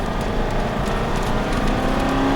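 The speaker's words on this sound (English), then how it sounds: "Now start unwinding the steering wheel and accelerate." An Aston Martin V8 Vantage accelerating on a racing track, its engine a loud, steady, continuous roar from up close with no pauses.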